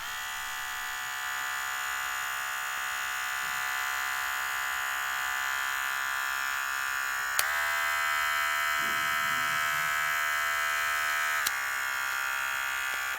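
Arzum Ducati AR5504 hair clipper running in sport mode, a steady high-pitched electric buzz held evenly throughout, close and fairly quiet, with a couple of sharp clicks partway through.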